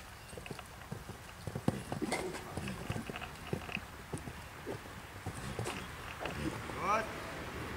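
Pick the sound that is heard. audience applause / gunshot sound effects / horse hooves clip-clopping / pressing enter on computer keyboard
horse hooves clip-clopping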